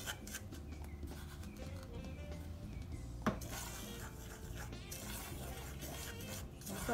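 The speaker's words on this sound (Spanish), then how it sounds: "Hay que estarle removiendo para que no se nos vaya a quemar." Metal utensils scrape and clink against a pot in steady stirring motions while cooking a nectarine flan mixture of flour and milk, with a low background hum and no talking.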